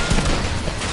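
Rapid gunfire crackles throughout a creative-mode shooter game, a dense fusillade of overlapping shots and bursts at steady loudness with no pauses.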